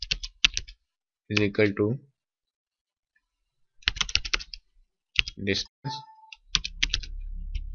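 Quick bursts of clicky computer keyboard typing while entering code in MATLAB, alternating with someone talking between the bursts, with a short beep near the end.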